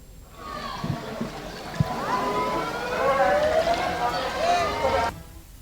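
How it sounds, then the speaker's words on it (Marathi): Warning sirens wail during the Pune flood in Ekta Nagar, a long rising and falling tone that carries on for several seconds and stops abruptly, with faint background noise around it. "सायरन वाजवले जात आहे."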